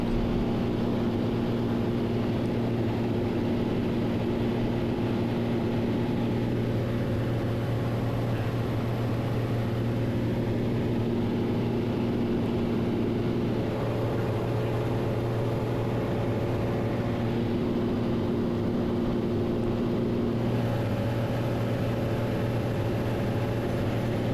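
A float plane's propeller engine hums continuously at moderate volume, heard from inside while flying over Alaskan mountains, with a constant low tone and no voices.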